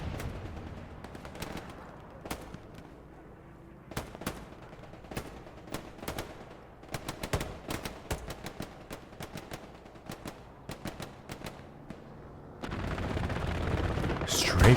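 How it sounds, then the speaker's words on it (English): A strafing run in the World War II shooter Hell Let Loose fires rapid bursts of gunfire, sharp cracks and rattling volleys spread across the scene, then a louder roaring rush near the end, with a voice talking over it. "Strafing run comes in."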